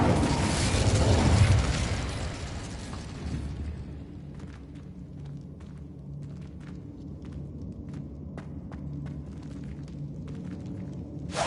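A fiery Incendio spell bursts out in Hogwarts Legacy, a loud roaring whoosh that fades over about three seconds into a low ambient rumble with scattered faint clicks and footsteps.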